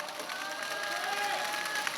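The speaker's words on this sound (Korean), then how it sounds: "다시 한번 뜨거운 연대의 박수 부탁드립니다." Outdoor labor rally crowd applauding in solidarity, a dense, steady wash of clapping mixed with cheers and shouts, moderately distant and sustained throughout.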